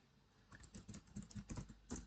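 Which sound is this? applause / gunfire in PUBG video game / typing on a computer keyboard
typing on a computer keyboard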